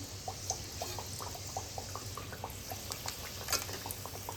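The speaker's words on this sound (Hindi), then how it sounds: "आप जितना इसे सिम गैस पे फ्राई होने देंगे उतनी ये करारी बनेंगी एकदम" Falahari snacks shallow-frying in a little oil over a low gas flame, giving a steady soft sizzle with small scattered pops and crackles throughout, close and fairly quiet, with no talking.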